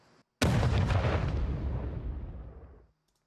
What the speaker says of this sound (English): The explosion, which is another transient.